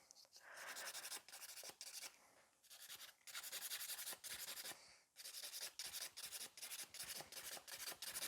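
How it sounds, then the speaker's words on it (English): Nails are filed in a salon, bursts of dry rasping strokes close up with brief pauses between passes, the rhythm quickening into short rapid scrubs toward the end. "This is kind of usual filing in a salon, like clean them."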